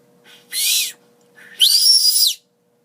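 Two piercing warbled bursts come from a bird whistle held on the tongue, the second longer and louder, close and on their own.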